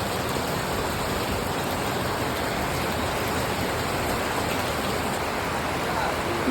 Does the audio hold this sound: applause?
no